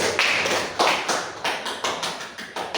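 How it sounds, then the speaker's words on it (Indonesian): Students applauding a group in a madrasah classroom, many hands clapping together in a loud, rhythmic, evenly spaced pattern of strong beats throughout. "Tepuk tangan untuk kelompok satu."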